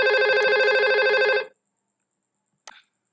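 A simulated IP phone in Cisco Packet Tracer rings with a bright electronic trill for about a second and a half, then goes silent before one short beep, with no talking.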